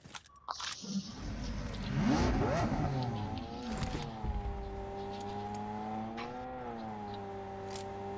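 A vehicle in the BGMI battle royale game drives off, its engine revving and rising in pitch, then holding a steady droning tone with slight dips, loud and continuous with scuffling noises early on.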